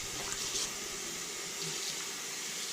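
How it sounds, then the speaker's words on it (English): Cold water from a tap runs steadily over freshly rinsed rock bass fillets at a sink, a continuous close splashing hiss with no talking. "Now I'm just trying to run some cold water through them."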